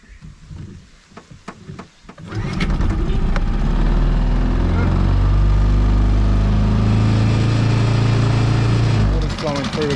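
A small outboard engine being flushed in a bucket of water starts after a few clicks and pulls, then runs with a loud, steady low rumble and churning water close by.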